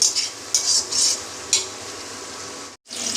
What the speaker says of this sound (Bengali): পেঁয়াজ আর রসুনটা ভাজা ভাজা হোক।